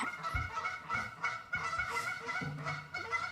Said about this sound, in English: We have geese landing behind us.